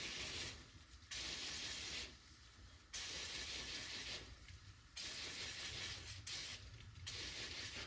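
Aerosol oven cleaner sprays from a can in several long hissing bursts, each lasting about a second or two, with short pauses between them, close and steady.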